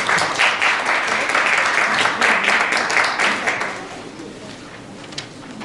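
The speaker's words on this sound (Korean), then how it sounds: "박수 부탁드립니다." Audience applause at a Korean lecture on science-fiction films and human-computer interaction: dense, loud clapping from a crowd that fills the room, then thins out and fades after about three and a half seconds.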